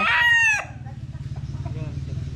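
A gamefowl stag on a farm gives a short, loud crow, then a run of soft, rapid, pulsing clucks close by, with no talk.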